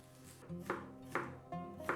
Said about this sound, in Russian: Нарезаем огурцы также не крупно,